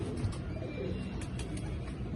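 Low pigeon cooing murmurs steadily beneath faint background noise, with a few soft chirps scattered through.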